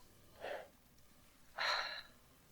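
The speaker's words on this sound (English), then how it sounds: "I can hear you breathing." Two short, close breaths on a phone line, a brief soft puff followed a second later by a louder, raspier exhale, with quiet line hiss in between.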